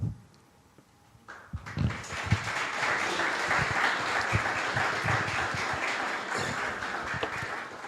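After a quiet start, a large church congregation breaks into sustained applause during a worship service that swells and holds steady, many hands clapping together in a reverberant room.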